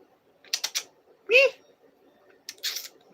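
A cat meows once, a clear rising-falling cry close by, set between clusters of short clicking or tapping sounds in a quiet room.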